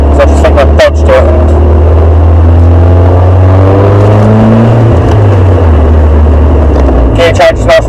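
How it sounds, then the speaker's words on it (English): A 1.6-litre Ford Fiesta Zetec-S drives along with its exhaust rattling, the engine drone rising and falling loudly through the run, with brief bursts of talk near the start and end. "The exhaust is rattling"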